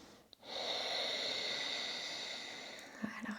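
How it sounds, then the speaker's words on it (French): During a yoga stretch, a single long, slow breath drawn close to the microphone hisses softly for a few seconds, then fades into quiet shuffling. "Sinon, on prend quelques respirations ici."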